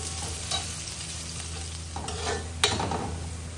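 Chopped onion sizzles and crackles in a hot pan for pancit canton guisado, with a steady close frying hiss and a few sharp scrape accents from stirring, no voices.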